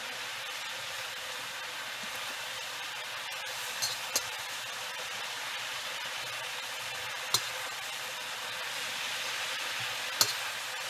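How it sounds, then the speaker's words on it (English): Cabbage fries in well-seasoned olive oil over very high heat, a steady, dense sizzle running throughout, broken by a few faint clicks of a utensil stirring it in the pan. "to fry it, I have to have my olive oil seasoned well, and then I just have to keep it moving"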